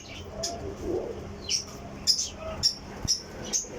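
Flying pigeons kept by a breeder in Jhelum, with a few soft low coos, then a run of sharp evenly spaced high chirps, close and moderately loud.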